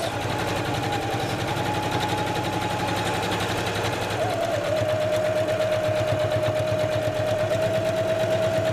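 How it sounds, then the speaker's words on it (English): A sewing machine runs steadily as it topstitches along a creased apron seam, producing a continuous rapid rhythmic stitching close by with a high whine that shifts pitch as the speed eases. "and I will continue sewing. I'll slow down a little bit."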